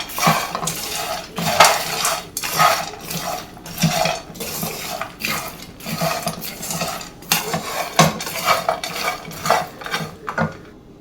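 Dry roasted snack mix is stirred in a bowl with a spoon, giving a steady run of scraping, rattling clinks and rustles that repeat rhythmically and close up, with no talking.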